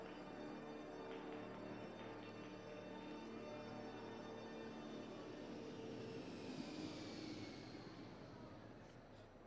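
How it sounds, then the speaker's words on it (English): An aircraft flies over an outdoor event field, producing a broad, steady rumble and roar that swells slightly toward the end, distant and fairly faint. "I got a flyover, look at that."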